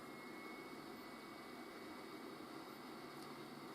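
Acekool BD-01 air purifier fan running with a steady, even broadband whoosh, close and continuous, with no change across the moment.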